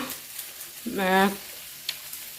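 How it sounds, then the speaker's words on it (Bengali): A piece of fish frying in a pan, soft sporadic crackles with a brief pot-lid rattle or clink in the middle, quiet and close. "মাছ ইয়ার এক পিস ইয়াতে ভাজি কৰিছোঁ"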